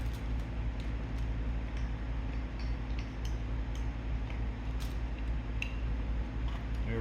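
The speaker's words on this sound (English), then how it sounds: "Let's see if I can unwrap these cords." Cords of a Holley Sniper 2 EFI unit being unwrapped make scattered soft ticks, rustles and light plastic clicks over a low steady hum, close and fairly quiet.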